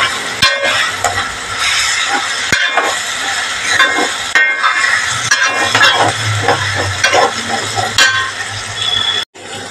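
Garlic, ginger and green chili frying in a pan while being stirred, a loud steady sizzle broken by sharp metallic clinks of the spoon against the pan, with a brief near-silent gap at the very end.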